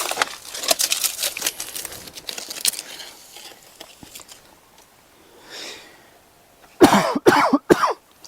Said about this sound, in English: Cough a little bit, sorry.